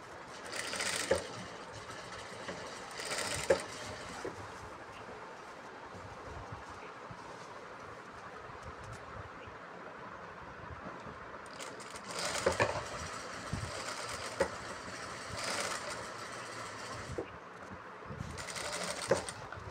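A sewing machine stitches salwar suit fabric in several short bursts of whirring, separated by long quieter stretches of low background hum.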